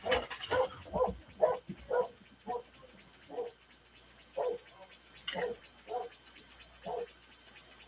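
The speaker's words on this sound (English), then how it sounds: "Oh, these dogs!" Dogs barking repeatedly in a steady run of sharp barks, fairly close, with a faint recurring high beep in the background.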